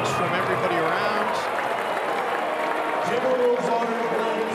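An NBA arena crowd at Target Center cheers and applauds Kobe Bryant, a dense, sustained roar of clapping and voices that stays loud throughout, with a commentator talking over it.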